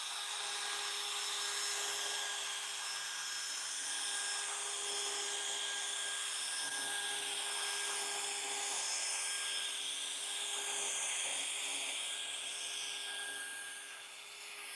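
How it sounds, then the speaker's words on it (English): A drill-driven brush whirs steadily while scrubbing car carpet, a continuous high-pitched mechanical hum with a rough rubbing texture, fairly quiet throughout. "And then I'm going to drill brush it and let it sit for a few minutes"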